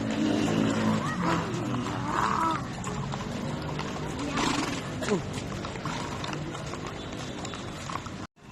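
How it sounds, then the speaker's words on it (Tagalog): A horse on an outing in Baguio neighs and its hooves clip-clop nearby, heard under steady background chatter and a voice throughout. "may horse tayo"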